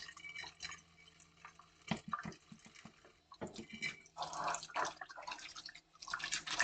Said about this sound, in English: always wash hands